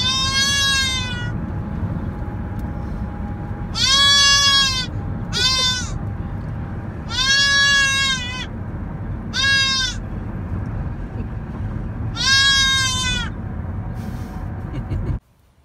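Nubian goat kid bleating in several loud, drawn-out, wavering calls at irregular intervals, with a low rumbling background like a moving vehicle between cries.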